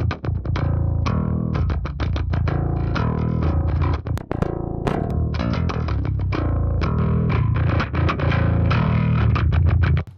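Bass guitar run through two plugins including a Bogren Bassknob STD, playing a continuous rock riff of rapid picked notes, loud and close with only brief pauses, no voices.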